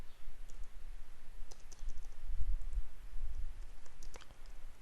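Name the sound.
computer mouse right click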